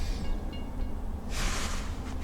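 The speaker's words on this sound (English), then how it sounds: "We're going to be watching train 7931 pass as the gates are coming down at Ocean Avenue" A Long Island Rail Road train passes a grade crossing at Ocean Avenue as the gates lower, a steady rolling rumble with a burst of brake-like hiss partway through, fairly distant and continuous.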